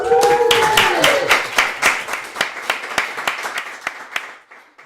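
An audience at a live Q&A event claps loudly with scattered cheers, dense applause at first that thins into separate claps and fades out.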